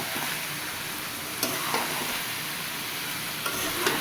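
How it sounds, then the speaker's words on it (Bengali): Meat frying with ground garlic, ginger and cumin paste while it is stirred. A dense, loud, continuous sizzle is close by, broken by a few brief scraping knocks of the spoon. "আদা, জিরে বাটা দিয়ে দিলাম। তাতে একসাথে কষাই নিলে"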